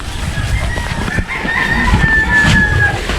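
Several chickens cluck and a rooster crows on a Philippine farm, the crow rising clearly over continuous rustling and bird noise, heard fairly close.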